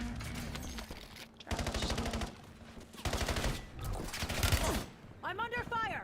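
Rapid automatic gunfire in the shooter Black Ops 7, loud, close bursts roughly a second long, broken by brief pauses, with a voice speaking and game sound effects mixed in near the end.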